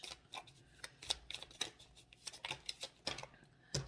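Tarot cards are shuffled quickly by hand, a rapid run of soft riffling snaps and flicks, close and quiet with no talking.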